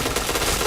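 A short, dense burst of rapid automatic gunfire from the shooter game Point Blank, loud and continuous through the brief moment.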